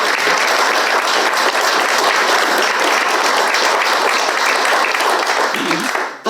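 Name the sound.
applause for two archbishops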